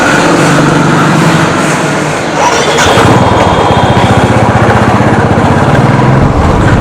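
Motorcycle engine running steadily and loudly close by as a ride begins, with a constant broadband roar and a slight dip near two seconds before resuming.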